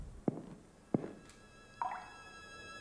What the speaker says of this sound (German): That dripping noise, I heard that while I was asleep.